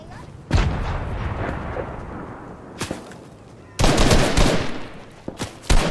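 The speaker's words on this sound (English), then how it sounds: "They just threw a grenade at me when they had a gun." Grenade explosions and gunfire in the video game Fortnite: a loud blast with a long rumbling decay, sharp shots, then a second heavy burst of fire and more quick reports near the end.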